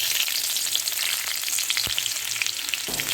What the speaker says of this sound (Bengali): দিয়ে দিচ্ছি থেতো করা রসুন আর চেরা কাঁচা লঙ্কা